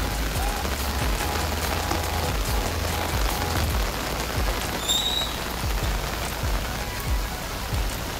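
Steady moderate rain patters on surfaces while runoff water flows nearby, a dense even wash of noise with no voices.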